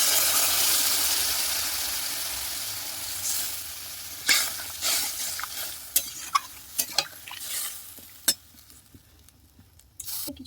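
Curry in a pan with mango and fish sizzles and hisses steadily, then water poured in brings a burst of louder crackling with sharp spits and stirring clatter that settles toward a quieter simmer.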